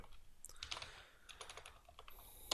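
Someone types code on a computer keyboard, a quiet, close run of irregular key clicks with a slightly louder tap at the end.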